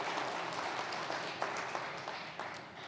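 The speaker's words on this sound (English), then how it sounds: "So again, big round of applause for you." An audience claps at the 2021 State of the Broadway District event, a light, fairly quiet spatter of applause that holds steady for a few seconds.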